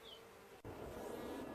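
Honey bees buzzing around an opened hive, a steady close-range drone that swells louder and denser about halfway through, with no talk over it.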